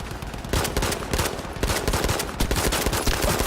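A P08 pistol fires in a video game, a rapid string of sharp close gunshots in quick succession, loud and dense throughout with no pauses for talk.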